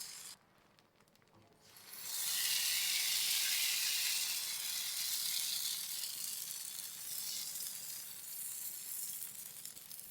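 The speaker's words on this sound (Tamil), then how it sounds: "ஆப்ப மாவை கல்லில் ஊற்றிடலாம்." Appam batter poured onto a hot appam griddle breaks into a loud, steady hiss and sizzle after a brief quiet moment, continuing evenly to the end.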